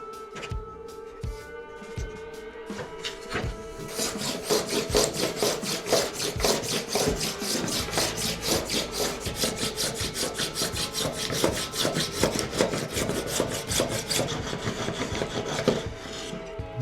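A cheap AliExpress hand plane shaving wood to make a dowel, a few separate scraping strokes and then a long run of rapid, rhythmic rasping passes, close and fairly loud.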